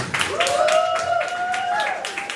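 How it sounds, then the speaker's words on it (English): Scattered clapping from a small crowd at an art event, brief and close, with a sustained whistle or tone rising over the claps. "Let's give him a round of applause."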